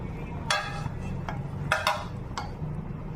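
A metal lid comes off a pan of light fish curry with potatoes and pointed gourd, giving a few short clinks and knocks spread over a few seconds above a low, steady kitchen background.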